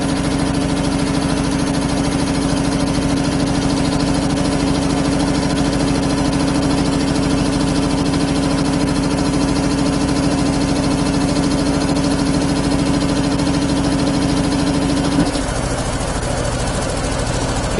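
A 25-horsepower single-phase air compressor idles loudly and evenly, a steady mechanical hum with a constant low drone that drops slightly in pitch near the end.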